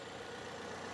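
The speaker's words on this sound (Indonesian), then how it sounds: "Dan ini suara mesinnya" A 2014 Toyota Yaris TRD Sportivo with a 1NZ-FE 1500 cc VVTi engine idles smoothly, giving a steady, even hum with no roughness, close up and without any talking.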